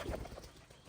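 A village pigeon gives a brief, soft low coo, quiet and close, alone for under a second.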